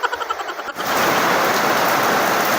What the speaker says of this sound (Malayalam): എന്റെ മഴയേ